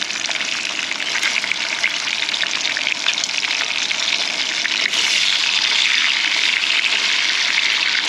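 Bacon strips sizzle and spatter in their own rendered grease in a hot pan, a dense, steady crackle that holds loud and close throughout with no talk.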